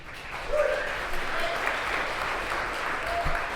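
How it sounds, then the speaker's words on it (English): Steady applause from an audience, moderately loud and continuous, with a faint voice or bark briefly audible underneath. "Let's have a round of applause again for Ilari."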